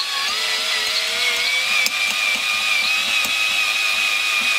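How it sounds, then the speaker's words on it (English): A power drill whines steadily while cutting a wooden dowel through lubricated wood, its loud, sustained tonal hum holding pitch with a couple of brief clicks and knocks. "put a bit of lube on the drill this time"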